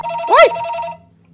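A telephone rings once in the horror video game BrokenLore: UNFOLLOW, a loud, close electronic trill with a warbling rise and fall that stops abruptly after about a second.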